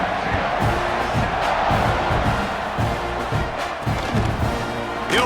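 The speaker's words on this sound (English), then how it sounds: "this crowd is buzzing after that last score" A stadium crowd roars and buzzes continuously in the NCAA 26 college football video game, a dense loud wash of cheering and whooping with scattered shouts.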